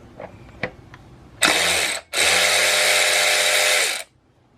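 A ratchet tool loosens the bottom brake caliper bolt on a Honda Super Cub C125 front brake. A few faint clicks come first, then two loud, close, steady mechanical whirring bursts of about half a second and two seconds.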